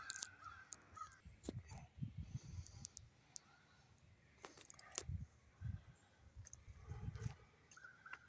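Crows cawing outdoors, faint and distant, several scattered harsh calls in irregular bursts over a rustling, noisy background with no talk.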